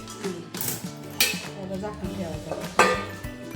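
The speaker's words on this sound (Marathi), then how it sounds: "झाकण काढून जरा हलवून घेतलंय" A metal lid comes off a pan and a spoon scrapes and clanks against it while stirring grated cucumber and besan sabji over a low flame, giving close, irregular clatter and knocks with no talking.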